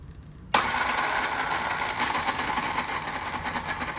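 RC car electric motor under an XLX2 speed controller with power turned all the way up, snapping on abruptly into a loud, steady buzzing whine that holds close and strong.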